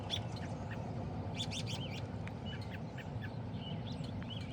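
Birds call outdoors in Healdsburg, a string of faint chirps and squawky notes at a distance over a steady rumble of passing traffic.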